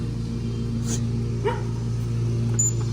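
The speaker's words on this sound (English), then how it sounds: "Dog barked." A reactive dachshund gives a single short, fairly distant bark outdoors over a steady low background hum, with no talking.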